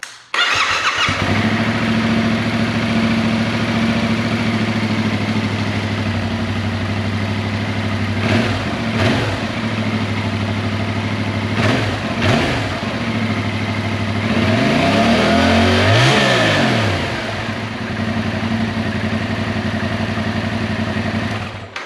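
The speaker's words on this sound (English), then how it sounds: "Wouldn't be a true changing of exhaust video without at least hearing the current stock exhaust" A Yamaha R7 motorcycle on its stock exhaust idles with a steady low rumble, then revs sharply a few times and settles back to idle, loud and close.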